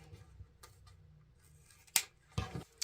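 Scissors snip through ribbon to cut a tail for a wreath bow: a crisp single cut followed by a second sharper snip, close up and quiet, with faint handling rustle before.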